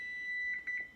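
A kitchen timer for biscuits in the oven beeps three times in quick succession, clear electronic tones over a quiet room after a steady faint tone.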